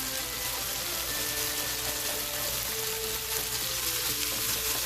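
Garlic and butter frying in a pan with chicken and asparagus, giving a dense, constant sizzle that stays loud and even throughout, heard close with no talking.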